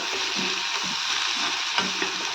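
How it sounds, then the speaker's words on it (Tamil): Onions frying in a pan for egg gravy give a steady close sizzle with faint stirring scrapes, and no one speaks. "வெங்காயம் நல்லா கொஞ்சம் ப்ரௌன் கலராக நல்லா வதங்கட்டும்"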